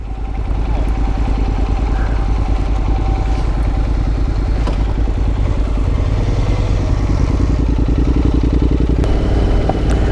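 Honda NC750X adventure motorcycle ridden steadily off-road on private property, its engine droning loud and continuous with a rough mid-range rumble and rattling clatter throughout, no talk over it.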